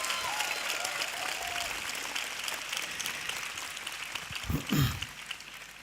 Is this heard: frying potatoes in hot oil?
no